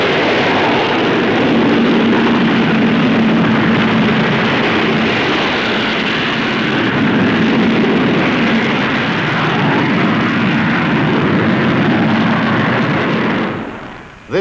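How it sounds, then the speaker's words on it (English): An Avro Vulcan B.2 four-jet delta-wing V-bomber takes off at the Farnborough air show, a loud, sustained thunderous jet roar that stays heavy for many seconds before cutting off abruptly. "Watch this fantastic takeoff of the Avro Vulcan."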